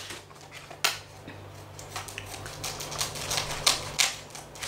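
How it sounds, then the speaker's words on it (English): Scissors cut through a FIFA 365 card blister pack with a series of sharp, close snips and crackling plastic clicks at an irregular rhythm, fairly quiet and without talk. "So we'll just cut this here to get to the packets and to the limited edition cards."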